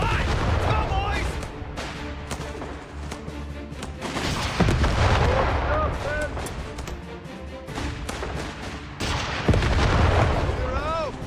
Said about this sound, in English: Fire that bazooka!